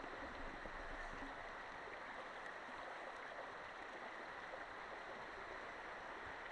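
A shallow stream of hot spring water at Kusatsu Onsen, running green from the ground, keeps up a steady, dense rushing and gurgling that stays even and close throughout, with no voices.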